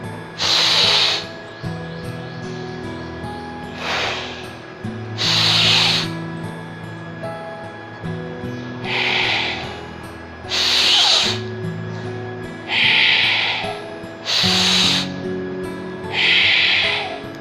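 Long forceful exhales in a breathing exercise for lung capacity, roughly eight loud breathy rushes spaced a couple of seconds apart over a low background drone, heard close with no talking.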